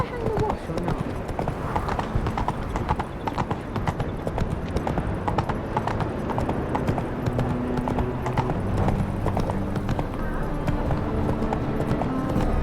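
Roach the horse gallops in The Witcher 3, hooves pounding in a rapid, continuous clip-clop beneath game music, with a voice speaking over the ride.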